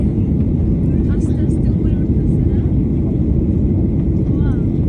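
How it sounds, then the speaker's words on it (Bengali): A passenger plane climbing after takeoff on a Dhaka to Cox's Bazar flight fills the cabin with a loud, constant low engine roar, with voices faintly audible beneath it. "আর বিমানটা আরও উঁচুতে উঠে যাবে"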